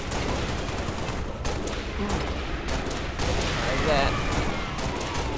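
Gunfire in the video game Halo Reach, rapid sustained bursts and heavier booms throughout, with a voice speaking briefly over the shooting.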